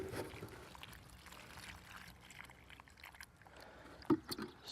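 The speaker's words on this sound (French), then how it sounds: "Et je lui apporte un arrosage" Water is poured onto an agapanthus freshly planted in a pot, a soft, quiet trickle and splash, with a brief louder splash near the end.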